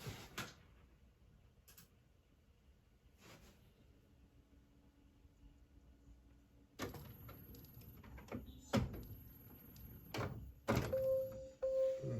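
An Epson WF-7710 inkjet printer prints a photo on glossy letter-size paper. A few soft thunks come first, then louder whirring, clacking feed and carriage mechanics build up over several seconds, close and alone.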